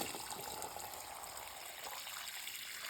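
Mountain stream water pours steadily into a small filter pouch on the Appalachian Trail in Virginia, a soft continuous trickle and gush close by with no talking.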